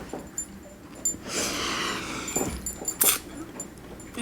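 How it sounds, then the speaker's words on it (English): A very large dog makes faint, muffled whimpers and snorts from upstairs, in short scattered bursts over a quiet indoor background. "We have a very large dog upstairs."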